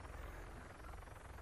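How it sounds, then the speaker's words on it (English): Helicopter passing directly overhead in the video game Arma 3, a steady loud rotor and engine drone that fills the short clip with no break. "I can hear a helicopter"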